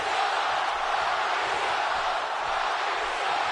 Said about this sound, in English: There's again the crowd here, Bakersfield behind The Rock.